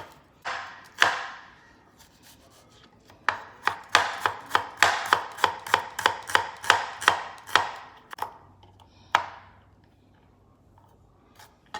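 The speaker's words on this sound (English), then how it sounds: "Dicing the shallots." Knife dicing shallots on a cutting board, a fast run of about a dozen crisp, evenly spaced chops that build into a steady rhythm, close and fairly loud, with a few separate chops before and after.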